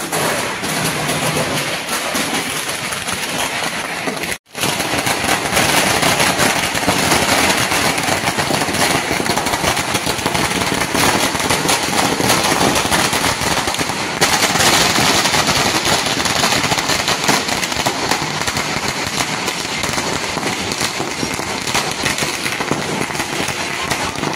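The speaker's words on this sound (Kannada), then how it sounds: "ನಮ್ಮ ರೋಡಲ್ಲೂ ಕೂಡ ಪಟಾಕಿ ಹೊಡಿತದೆ" Firecrackers burst on a residential road during a Ganapathi festival celebration, a loud, dense, continuous barrage of crackling and popping with one brief break early on.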